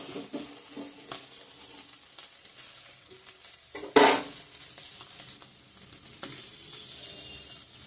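Lentils go into a pan of fried onion and dried fish, giving a sudden loud hiss-and-splash burst midway that sits over a quieter, steady background sizzle with faint clinks.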